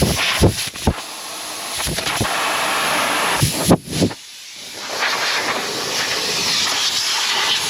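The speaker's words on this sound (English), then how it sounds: "Just letting all the air out." Air hisses out of a show truck's air system in a loud, sustained rush, broken by a few sharp bursts and a short dip before the steady venting resumes.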